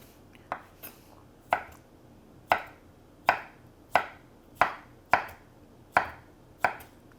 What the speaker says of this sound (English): You're gonna take your jackfruit and then just slice them into strips.